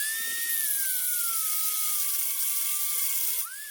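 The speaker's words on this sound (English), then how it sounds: "That's where the trusty grinder comes into play." An angle grinder with a cutting wheel slicing through a broken powerhead mounting bolt on an Evinrude outboard, a steady high-pitched whine that dips slightly in pitch under load and rises again as the cut eases.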